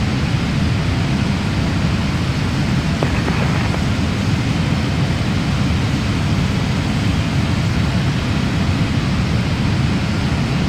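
A PMDG Boeing 777-300ER taking off in Microsoft Flight Simulator, a steady, loud, broadband jet engine roar that holds constant throughout, dense and unbroken like cockpit-heard thrust during the takeoff roll.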